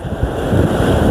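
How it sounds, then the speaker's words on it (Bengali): Sea waves rolling in with strong wind off the beach at Chattogram, a loud, continuous roar of surf and wind buffeting close to the microphone. "আর সাগরে ঢেউ তো থাকবেই।"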